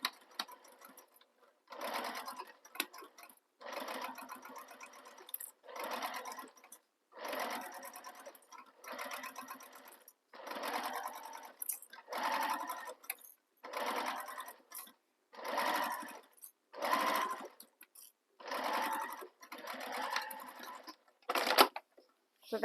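Sewing machine with a Teflon foot stitching down the long edges of a handbag strap, a dozen or so close bursts of rapid stitching separated by short quiet pauses, with no talking.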